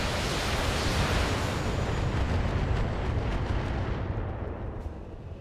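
Weapons firing in the RogueTech mod of BattleTech: a loud, dense, continuous roar of mech weapon fire and blasts that fills the clip, then thins and fades near the end.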